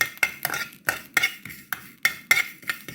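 Spices dry-roasting in a pan for a Jaffna-style chicken curry, stirred with a utensil that scrapes and clinks against the metal in quick irregular strokes, close and fairly quiet, with no talking.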